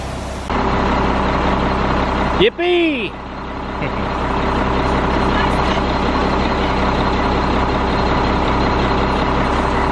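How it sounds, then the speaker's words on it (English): A concrete truck's diesel engine runs steadily at a horse barn job site, a constant low rumble with a brief whistle-like tone partway through and a short voice shouting over it. "Concrete truck's washing out."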